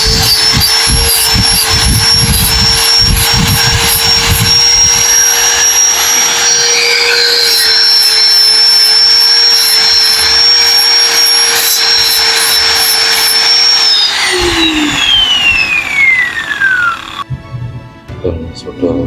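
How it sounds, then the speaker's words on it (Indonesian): A loud electric sander whines steadily on dried putty over metal, its pitch holding and then dropping away as the motor winds down near the end. "setelah kering saya coba amplas"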